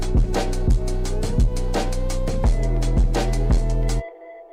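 The drop section of a trip-hop beat produced in FL Studio plays loud and alone, with punchy recurring kick and snare hits over deep sustained bass and layered synth tones, cutting off abruptly near the end.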